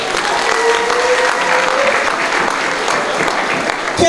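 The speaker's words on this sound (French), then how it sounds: "je voudrais entendre un tonnerre d'applaudissements" Loud, dense applause fills a wedding reception party hall, a steady wash of many hands clapping at once that holds at full strength for about four seconds.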